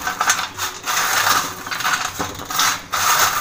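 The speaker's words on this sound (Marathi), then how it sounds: "आता हे ना असे चुरून घेते आम्ही हाताने" Roasted dried Bombay duck fish being crushed by hand, giving loud, close crackling and crunching bursts in uneven clusters, with no talk.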